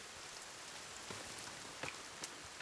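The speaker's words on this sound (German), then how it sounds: "Schon wieder Regen." Rain falls steadily in the video game The Forest as a soft, even hiss with a few sharper drops and patters standing out, and no voices are heard.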